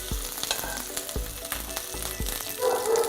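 Onions sizzling and frying in hot oil in a pan for Telugu-style egg bajji, a steady close crackle with a few sharp stirring knocks and a brief louder burst near the end.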